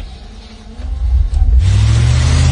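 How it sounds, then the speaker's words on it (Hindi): A car engine starting on a cold winter morning, idling low and then swelling into two rising revs that settle into a loud, sustained roar, with no talk. "मैं गाड़ी में बैठा और गाड़ी स्टार्ट की"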